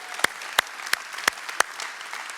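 A church congregation clapping together on a slow, regular beat, five or so sharp claps ringing out in a reverberant hall, with no talking over them.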